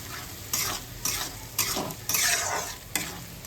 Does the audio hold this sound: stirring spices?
yes